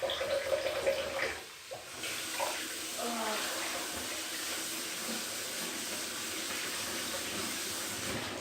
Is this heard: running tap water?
yes